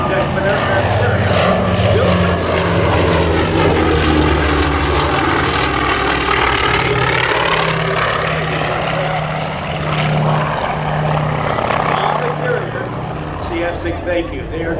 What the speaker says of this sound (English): As our odd aircraft comes around again from the right